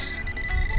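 A Simplex metal detector sweeps a target on a windy beach, reading 54 over a buried blank cartridge case, giving a brief steady electronic tone over a low rumble of wind.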